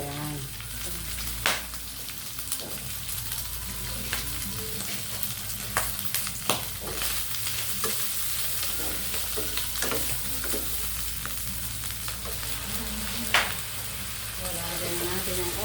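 Coconut-milk dish frying and being stirred in a pan after Coco Mama is added, with a steady sizzle and repeated sharp scrapes and clinks of the utensil against the pan.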